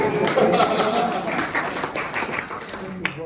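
An audience at a town meeting gives a round of applause, a close, fairly loud wash of clapping mixed with crowd voices that tapers off over a few seconds.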